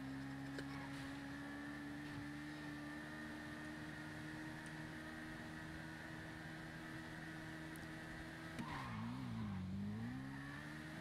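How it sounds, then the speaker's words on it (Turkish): A motorcycle with rider and passenger aboard holds a steady engine drone at speed, then brakes suddenly near the end, the engine pitch dipping and wavering as it slows. "Böyle ani fren yapma, düşeriz."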